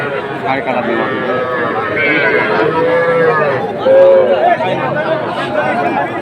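Cattle at a Bangladeshi livestock market near Aftabganj, with young bulls and heifer calves, give loud nearby moos over steady crowd chatter, with people talking throughout.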